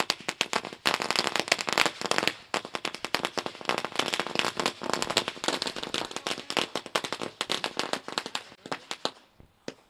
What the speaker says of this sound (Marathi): मान्यवरांचं आगमन फटाक्यांच्या आतिषबाजीनं